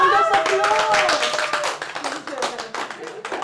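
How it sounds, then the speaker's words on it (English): Applause from a small gathering of council volunteers, with scattered hand claps under overlapping voices and chatter throughout, close and fairly loud. "Give yourselves a round of applause"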